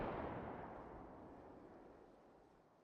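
A single gunshot rings out in a zombie survival video game, a loud burst at the start whose rumbling tail decays steadily over about three seconds, with no talking.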